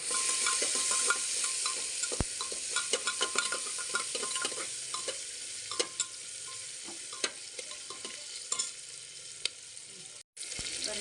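Onion and tomato frying in a pan, a steady sizzle with repeated scraping strokes of a stirring spoon, close and continuous, then a brief cut near the end.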